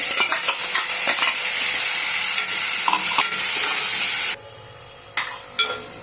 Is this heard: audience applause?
no